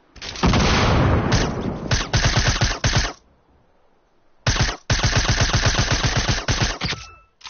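Rapid automatic gunfire in Fortnite Battle Royale, loud and close, firing in two long sustained bursts of fast, evenly spaced shots separated by a brief quiet gap.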